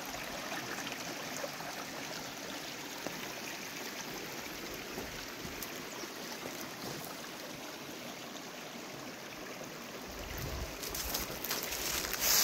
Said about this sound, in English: And beautiful creek is running nicely.